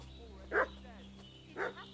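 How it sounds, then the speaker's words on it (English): A dog in the medieval video game Kingdom Come: Deliverance II barks twice, about a second apart, each short and moderately loud over a quiet, humming game backdrop. "What's that dog making such a fuss about?"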